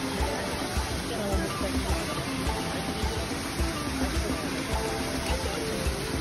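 Kiukhola Falls in East Sikkim sends a steady, broad rush of falling water, loud and continuous, while people talk over it.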